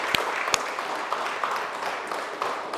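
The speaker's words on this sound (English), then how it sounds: "So let's clap it up for yourselves." Clapping from a masterclass audience at the close of the session, a moderate room of hands with a couple of sharper claps standing out near the start.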